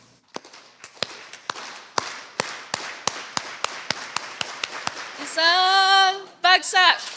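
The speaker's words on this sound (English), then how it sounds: "And let's start our clap." An audience at an APIDA Heritage Month festival claps together in sharp, evenly spaced unison beats, gradually speeding up, followed by a loud cheer and whoops.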